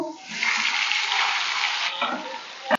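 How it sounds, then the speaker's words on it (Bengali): Potatoes dropped into hot oil give a sustained broadband frying hiss lasting about two seconds, followed by a softer clatter and a sharp click near the end. "এই দেখো তেল গরম হয়ে গেছে, ঝপাঝপ দিয়ে দিলাম আলু"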